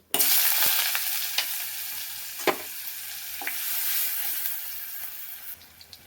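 Mustard seeds, onion, shallot, crushed garlic and chili frying in coconut oil in a pan, a steady close sizzle with occasional sharp pops and spoon scrapes, no voices.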